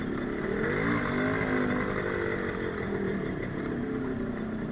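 A Yamaha RXZ motorcycle engine runs at a fairly steady idle, a low throbbing drone with slight wavering in pitch, heard moderately close and on its own without speech.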